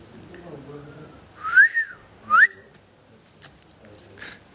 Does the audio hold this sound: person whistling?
yes